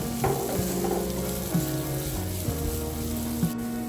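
Onions sizzling steadily in hot oil in a pan for a home chicken curry, a continuous close frying hiss with a few soft stirring knocks and scrapes.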